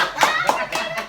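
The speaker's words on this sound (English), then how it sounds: "they got the fake clap thing in the back." Several sharp canned clap sound effects played from the back of a studio, spaced in a loose rhythm over background chatter and voices.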